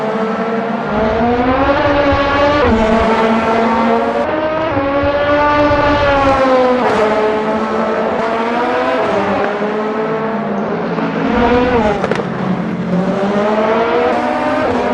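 Race cars in a sim racing game at Sebring roar past in a continuous loud stream, overlapping engine notes rising and falling through gear changes, with no talk over them.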